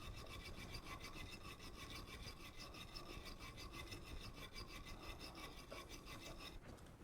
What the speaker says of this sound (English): I'll take a small little brush here and just brush across that real quick.